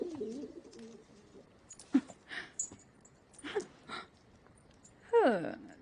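Message-carrying birds, pigeon-like, coo in several soft, separate calls close by, with a louder throaty coo near the end and faint background noise between.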